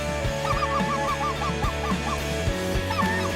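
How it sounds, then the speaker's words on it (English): A gaggle of specklebelly geese honking during a goose hunt in California, repeated clear calls in a steady overlapping series, fairly close and loud over a low background rumble. "Look at this gaggle of geese."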